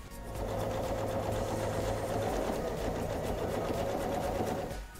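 A sewing machine steps a French seam along the long edge of fabric for a yoga bag, running steadily and fairly close for nearly five seconds, then stopping, with no talking.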